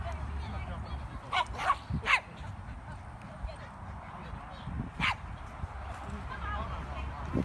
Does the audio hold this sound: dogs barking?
yes